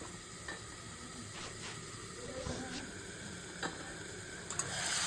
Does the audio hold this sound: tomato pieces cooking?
yes